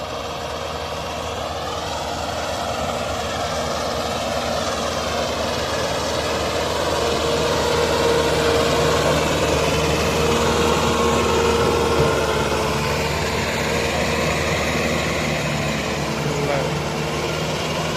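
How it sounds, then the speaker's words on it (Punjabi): A heavy Mahindra Novo 655 tractor engine rumbles steadily at idle, a continuous low drone with a faint hum over it. "ਆ ਰਿਹਾ ਟਰੈਕਟਰ ਹੁਣ ਦੇਖੋ ਬਾਹਰ ਕੱਢਦੇ"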